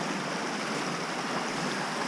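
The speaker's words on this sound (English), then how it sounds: "Get away from the river noise." Continuous broadband rush of river water flowing beside a burn used for gold panning, steady and loud throughout with no pauses.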